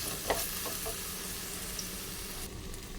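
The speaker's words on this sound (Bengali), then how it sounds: "আলুটাও দিয়ে দিলাম, ভালো করে ভাজা করে নেব।" Diced potato and carrot frying in a pan, a continuous quiet sizzle with a few scraping stirs of a utensil near the start, fairly close and steady, no voices.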